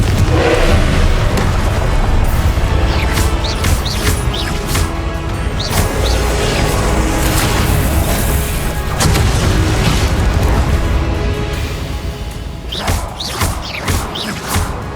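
A long stretch of Confringo blasting-spell explosions in Hogwarts Legacy, heavy booms and crashes piling up in a loud, sustained combat wash that eases slightly toward the end.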